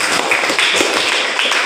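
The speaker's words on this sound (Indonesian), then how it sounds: "Kasih tepuk tangan." A school classroom breaks into applause, a steady, loud patter of many hands clapping together without pause for the whole moment.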